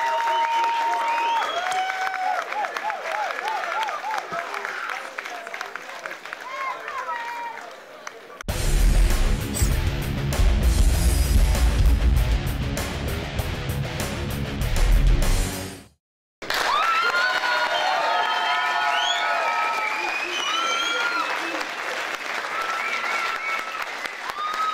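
Loud crowd applause and cheering at a women's fight night, a dense burst of roughly eight seconds between stretches of ringside commentary, cut off sharply at the end.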